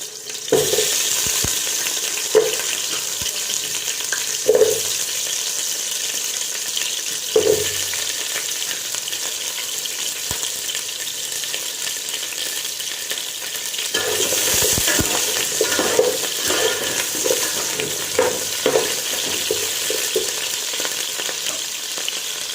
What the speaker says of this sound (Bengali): তো এঁচোড়টাকে আমি ভেজে নেব